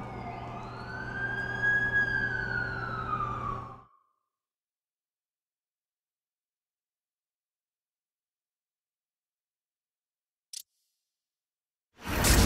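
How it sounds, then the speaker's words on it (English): Ambulance siren in The Amazing Spider-Man 2 video game, a loud wailing tone rising and falling over a rumbling engine for several seconds before cutting out abruptly. "That's the ambulance I called."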